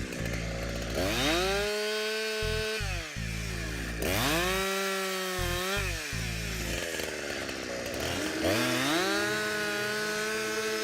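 A Husqvarna 372 XP clone chainsaw cuts firewood close up, its engine loud and steady. It bogs down into each cut and revs back up between them, running alone with no voices.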